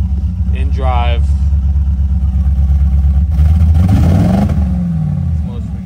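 A Chevy G20 Nomad van with a swapped LS engine rumbles loud and close, idling low then rising as it pulls away in drive, with a voice briefly heard over it.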